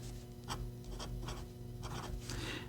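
A PenBBS 469 eyedropper fountain pen with a fine steel nib writing in blue ink on paper, a quiet close scratching in several short strokes with small pauses.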